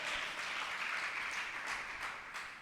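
Congregation clapping during a Telugu Christian sermon, a soft, fairly distant patter of applause with a few sharper claps rising through it before tapering off.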